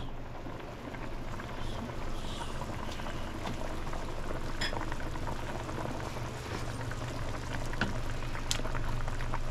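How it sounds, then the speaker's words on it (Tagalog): Sinigang na baka, a beef broth, bubbles at a rolling boil in a pot, a continuous watery burble and hiss with occasional sharper pops and splashes, close by and steady with no talk. "kulo na"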